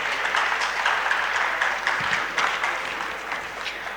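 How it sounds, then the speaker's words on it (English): A conference hall audience at an inauguration gives a round of applause, a steady, fairly loud wash of many hands clapping that eases slightly toward the end. "Can we have a round of applause to all of you present in the hall?"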